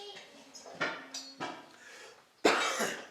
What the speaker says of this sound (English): pollen or some sort causes me to cough